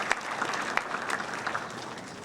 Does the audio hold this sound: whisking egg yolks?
no